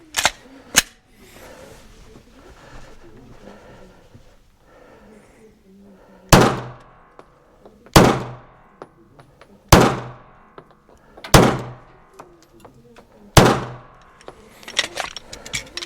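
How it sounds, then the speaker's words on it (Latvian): Five sharp Glock pistol shots fired at a target from 15 metres at an outdoor shooting competition, evenly spaced and loud, with talk and a couple of earlier bangs before them. "Davai, bliez ar gloku no 15 metriem 5 šāvieni."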